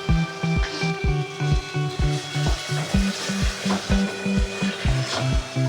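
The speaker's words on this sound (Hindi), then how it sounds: "अदरक लहसुन को भी इतनी देर भूनना है कि इसकी हींग निकल जाए" Ginger garlic paste frying with spices in a pan over a high flame, a steady sizzle under regular rhythmic scraping and stirring strokes, close and fairly quiet with no talk.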